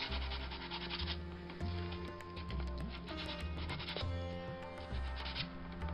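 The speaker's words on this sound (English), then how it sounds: "here I'm sandpapering off the worn out decals" Sandpaper rubbing worn decals off a Triang Hornby R855 LNER A3 Flying Scotsman model locomotive, repeated close scratchy back-and-forth strokes in an even rhythm, quiet, with no speech.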